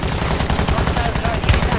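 Dense, continuous gunfire from a Call of Duty Resurgence quads match on Fortune's Keep, rapid automatic bursts rattling steadily throughout with no pauses, close and loud.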